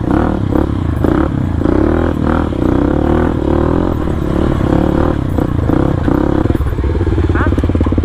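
A supermoto motorcycle rides an off-road mountain trail near Tangkuban Parahu, its engine loud and close, revving and chugging continuously with clattering and scraping from the rough ground throughout.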